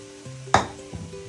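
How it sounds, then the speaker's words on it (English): Leftover beef marinade hits a hot pan for Kung Pao beef, a sudden loud sizzling burst that fades quickly, followed by a faint clink, close and alone. "This is what was left over of our marinade, from our marinade. I'm going to place this in the pan."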